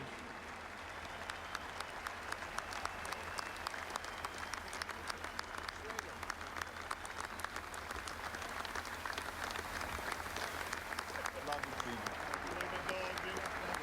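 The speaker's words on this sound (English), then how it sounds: "let's give Gene one more round of applause to show him our appreciation" Stadium crowd applauding at a New York Yankees Old Timers Day, a steady broad wash of distant clapping lasting throughout, with a low hum and a voice over the public address underneath.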